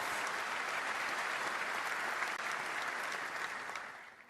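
Sustained applause from a large crowd at the 2026 FIFA World Cup Final Draw, following a performance, dense and steady, fading slightly toward the end.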